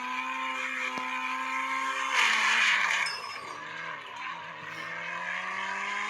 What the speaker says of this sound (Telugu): ఈ కార్ అయితే చాలా అంటే చాలా స్పీడ్గా జరుగుతుంది.